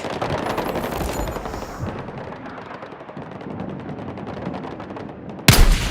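Enemy machine guns in Battlefield 6 rattle in dense, continuous rapid fire, loud and close, with one sharp louder blast near the end.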